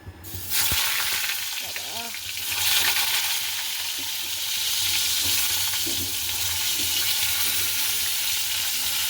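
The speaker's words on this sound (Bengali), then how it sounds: "আর এটাতে ভাজবো হচ্ছে পটল" Pointed gourd (potol) sizzles in hot oil in a wok. A loud sizzle starts abruptly when the pieces go in, then a continuous close crackle with occasional stirring scrapes.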